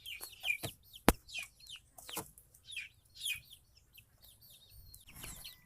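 Young egg-layer chicks a few weeks old cluck and cheep in bursts of short calls, fairly close, with a few sharp peeps and light scuffling in between.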